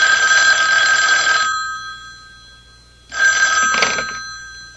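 A telephone rings in a radio mystery drama: a loud bright bell ring lasting about a second and a half, a pause of silence, then a second ring, with no voices.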